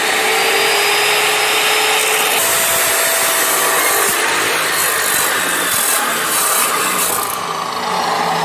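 A Milwaukee cutting saw slices through metal with a loud, continuous high-pitched whine that holds steady throughout, with no talking.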